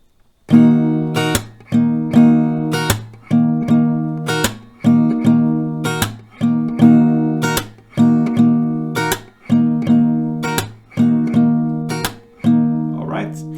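Acoustic guitar chords strummed in a steady repeating pattern, each round ending in a sharp percussive hit, with no voices.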